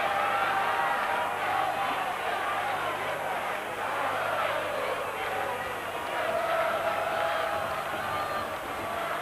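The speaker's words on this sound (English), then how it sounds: "Now we'll hear the chant from the Argentine crowd." Argentine supporters at a 1987 rugby union test against the Australian Wallabies chant in a dense, sustained roar from a large stadium crowd, rising and falling steadily beneath a commentator's voice.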